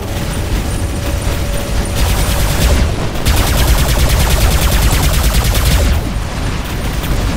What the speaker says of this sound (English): Let's fire that turret over there, do a little bit of damage to the turret.